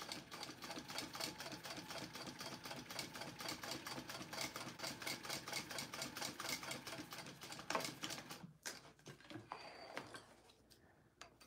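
Sewing machine stitching a bag, a fast, even rattling run of needle strokes that continues for about eight seconds before stopping, followed by quiet handling sounds.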